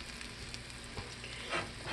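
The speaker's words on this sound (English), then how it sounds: "So right now it's cooking." A healthy oatmeal pancake cooks in a pan with a steady, soft sizzle and light frying crackle throughout, fairly quiet and alone with no talking.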